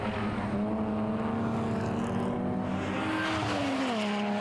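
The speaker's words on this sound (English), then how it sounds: "And like the E30s, as the 4 of Milan Klina goes off through the infield." BMW E30 race cars lap the track at Taupo in a BMW race series, a loud continuous engine roar with rising and falling pitch as the cars pass close by.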